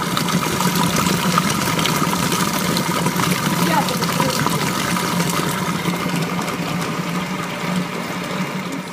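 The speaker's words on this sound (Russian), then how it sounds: "Мне надо будет ягоды промыть" Tap water running steadily while a batch of cranberries is rinsed for grinding with sugar, a loud continuous broadband rush that holds for the whole stretch with no pauses.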